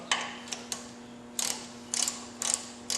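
A ratchet snugs up bolts in short bursts of sharp clicking, about six quick runs of ticks separated by pauses, close and fairly quiet over a steady low hum.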